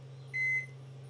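A single electronic beep from a microwave oven keypad on a boat while the cooking time is set, clear and steady for about a quarter second over a low constant hum.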